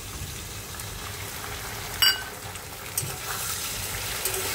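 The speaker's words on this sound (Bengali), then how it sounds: "এই যে আলু পোস্ত করব, তাই আলুটা ভাজছি।" Potatoes fry in a pan for aloo posto, giving a soft, steady sizzle with a few faint clinks and stirs, quiet and without talk.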